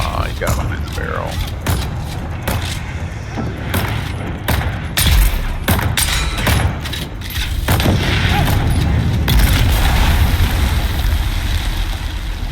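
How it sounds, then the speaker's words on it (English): Enemy gunfire in Dune: Awakening: scattered sharp shots and cracks at irregular intervals over a constant loud background rumble, with some bursts close together. "Why do you shoot at me when you're out of range?"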